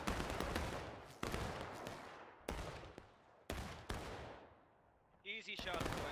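Repeated musket volleys from a War of Rights historical rules battle on the Outskirts map, sharp cracks with reverberant tails coming in bursts, some near and loud, others spaced apart, with a voice talking over the firing.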